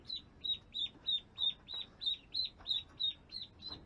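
A lone baby duck calls out when separated from its pen mates, giving about a dozen evenly spaced, high, shrill peeps, close and clear over a quiet background.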